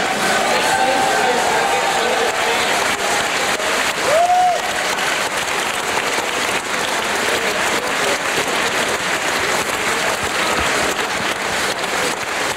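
Sustained applause from a boxing crowd fills the arena for boxers Wirtjes and Taras Biedenkamp, a dense, steady roar of clapping that holds at an even level throughout, with a commentator talking over it.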